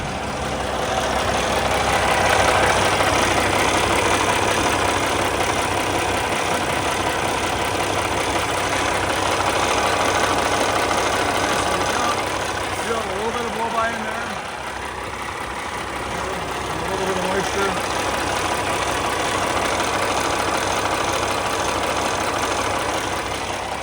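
A 2012 Volvo VNL780 truck with a Cummins ISX 485 hp diesel idling close by, a continuous deep rumble with a slight knocking texture and a brief dip in level partway through.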